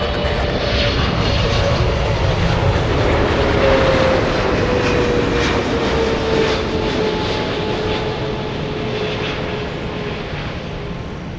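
A Delta airliner roars past at LAX airport, a loud sustained jet engine rumble with a slowly falling whine that stays near and strong throughout.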